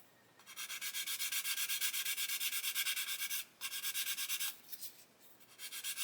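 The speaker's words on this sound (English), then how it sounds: "you can see I'm sanding the clear part" Steady, close scratchy rasping of worn 400-grit sandpaper rubbed over the clear plastic part of a 1/72 Airfix Lancaster B.III model kit, continuous strokes with two brief pauses.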